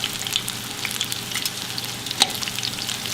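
Steady oily sizzling and crackling of fish frying in a skillet, with small pops and a light scrape, no voices.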